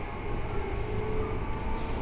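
A Tobu 10030 series local train bound for Kawagoe-shi runs steadily, recorded from inside the car above the resistor gear, with a constant loud rumble and a faint rising tone.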